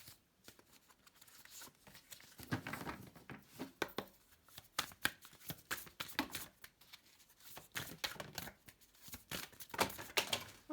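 Oracle cards handled and shuffled by hand, irregular bursts of crisp riffling and flicking close up, with quiet gaps between them.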